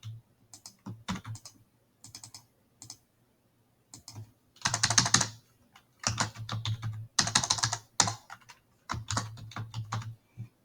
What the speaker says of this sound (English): Then I type here, then I will formulate equal sign.